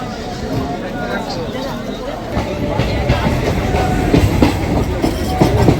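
A local passenger train on the Sealdah–Canning line rolls into Sonarpur junction, with steady rumbling and rising clickety-clack of wheels over the rails. The noise builds gradually and continues without interruption, and faint crowd babble from passengers sits beneath it.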